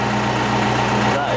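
A sailboat's inboard engine runs with its cap off to bleed air, giving a steady, even idle with a low droning hum that continues throughout at moderate loudness.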